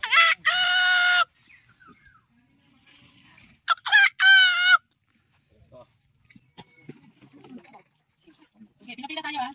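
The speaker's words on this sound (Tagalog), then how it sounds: "tandang." A rooster crows twice, loud and close, each crow a long strained call separated by a few seconds of quiet, with faint scraping and soft voices in between.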